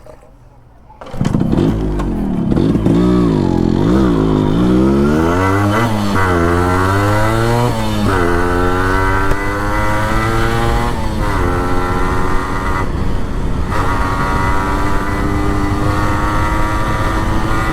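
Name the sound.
Yamaha RX100 motorcycle engine revving with changed muffler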